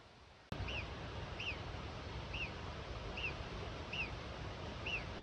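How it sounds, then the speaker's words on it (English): A bird calls repeatedly with short, rising-falling chirps about once a second, fairly faint over a steady wash of wind or water noise. "that's the noise of a bird, isn't it?"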